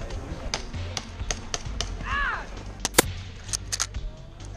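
Airsoft gunfire on an outdoor field, a scattered series of sharp snapping shots at varying distances, some close and loud, with brief voice sounds mixed in.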